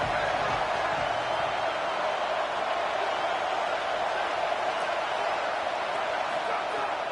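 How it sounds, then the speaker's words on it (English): Big college football crowd in Happy Valley roaring on third down, a steady, broad wash of distant stadium noise that holds unbroken throughout. "Here comes the noise from this big crowd in Happy Valley on 3rd down."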